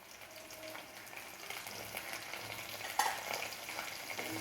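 Onion, green chili and curry leaves sizzle in hot oil after mustard seeds pop, a steady broadband frying hiss with a brief louder crackle and stir near the end, no talking.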